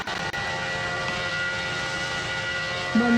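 An Airbus A320 jet engine in the PTFS game gives a steady, fairly loud droning hum with faint tonal whine layered through it, holding evenly across the few seconds with no speech.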